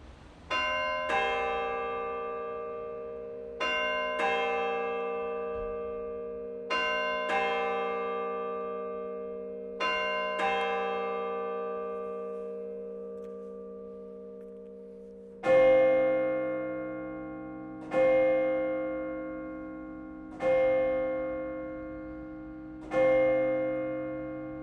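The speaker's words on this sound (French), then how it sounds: "vous venez d'entendre nos cloches" Church bells ring in Saint-Mihiel, eight or so resonant strikes spaced a few seconds apart, each ringing out and decaying, with the later strokes on a louder, lower bell.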